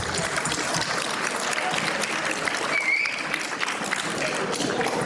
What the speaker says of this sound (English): give a big, big, big round of applause